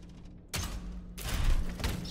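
Gunfire in the PS5 action game Steelrising, a sudden loud burst of shots cutting in after a low mechanical hum, then a second heavier volley with thuds.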